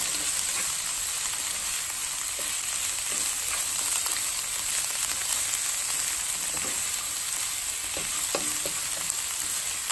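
Chicken fried rice with egg stir-fried over high heat, a steady loud sizzle with scattered clicks and scrapes of the pan being tossed, continuous and close with no talking.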